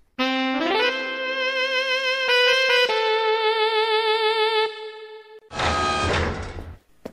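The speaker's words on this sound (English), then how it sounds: "Still haven't learned how to work these doors, have you, Funnt?" Comedic sliding door effect on a ship: a rising electronic whine holds with a steady buzzing tone, then a burst of harsh whooshing noise closes it, loud and alone.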